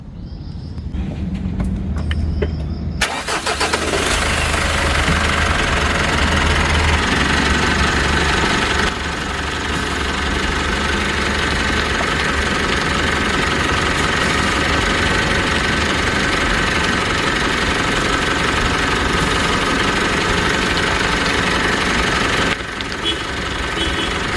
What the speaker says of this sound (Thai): เดี๋ยวผมไปสตาร์ทรถรอบสุดท้ายกันครับ